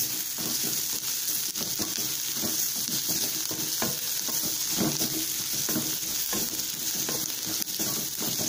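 Sliced onions with turmeric sizzle steadily in a hot pan, with a continuous loud frying hiss close up and occasional soft scraping of a spoon stirring.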